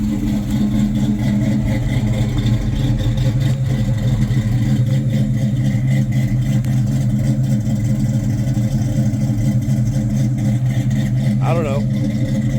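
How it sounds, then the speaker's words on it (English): Supercharged 1995 Mustang GT V8 with a T56 gearbox idling cold, a loud steady lumpy rumble with a constant supercharger whine on top and a voice talking briefly over it. "We're gonna let it sit here and idle a little bit."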